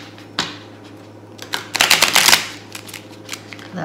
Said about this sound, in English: A good hard shuffle.